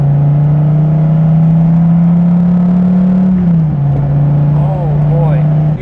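Dodge Viper TA 2.0 with an 8.4 liter V10 driving, a loud, steady low engine drone from inside the car that dips briefly in pitch as it shifts, with a person talking over it.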